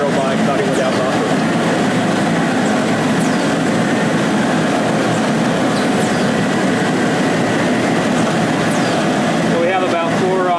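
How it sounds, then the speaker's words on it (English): An Atria HP automated knife cutter slices knit fabric at high speed, a steady loud mechanical whir and rumble running throughout with faint squeaks on top. "we're able to hold it very stable, cut at high speeds, these very intricate parts"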